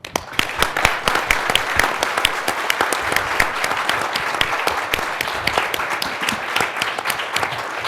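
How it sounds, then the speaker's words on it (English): Audience applauding two astronauts at the National Press Club, a loud sustained round of crisp, dense clapping close by, steady for several seconds without talk. "the audience wants to show its appreciation by giving you some applause"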